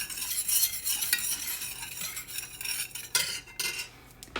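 A spoon scrapes and clinks steadily around a bowl of coconut bread mixture, a busy, close rhythm of stirring with sharp knocks against the sides and no talking.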